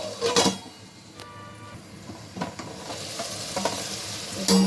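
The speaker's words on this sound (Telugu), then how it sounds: "ఆయిల్ బాగా ఫ్రై అయిందండి చేపలు కానీ వంకాయలు టమాటాలన్నీ మంచిగా ఫ్రై అయ్యాయి" Fish, brinjal and tomatoes frying in oil, with a quiet steady sizzle broken by several scraping stirs of a spoon against the pan, close and fairly soft.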